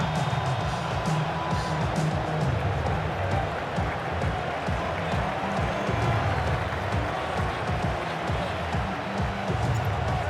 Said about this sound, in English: Not quite the same roar out of the crowd, Kate, that you're going to get with a touchdown, but still plenty of noise coming down